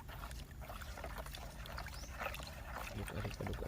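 A liquid mixture with tape yeast is stirred while a homemade herbicide is prepared, giving a continuous wet sloshing and swirling with small trickling splashes close by. A voice is faintly present.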